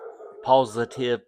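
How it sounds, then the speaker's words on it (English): A dog barks and howls in a drawn-out, yelping burst, fairly close, with a few yips following. "dog in the background barking."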